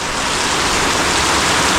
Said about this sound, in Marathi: गावाला पाऊस एकदम जोरदार सुरू आहे